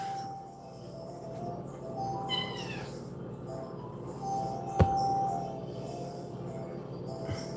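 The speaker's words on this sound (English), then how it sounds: "I got this cat. Listen, this cat is so loud." A loud house cat meows several times indoors, short rising cries spread across the clip over a low room hum, with one sharp clink midway.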